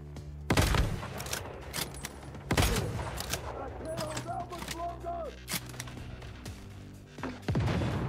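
Gunfire in the video game Once Human at a military base, with a few sharp, loud shots spaced apart and smaller pops between them, while voices talk over the action.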